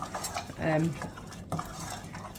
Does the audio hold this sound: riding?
no